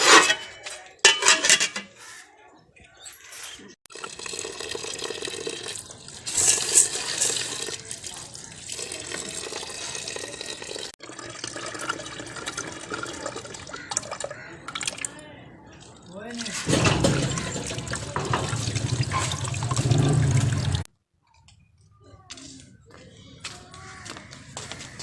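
Running tap water splashes over chickpeas and grains being washed, with bursts of flowing water and clinking of a vessel, and someone talking at times over it.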